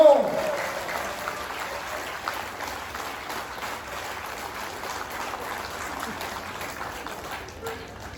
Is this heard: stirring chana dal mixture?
no